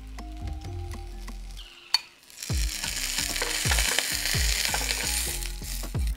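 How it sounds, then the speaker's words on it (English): Birria taco filled with meat, cheese, cilantro and onion, its tortilla dipped in consommé, frying in a pan. After a short quiet gap near the start, it sizzles loudly and steadily, with scraping and clinking as it is moved. "Fold it over and let it cook for a few minutes each side to get it crispy."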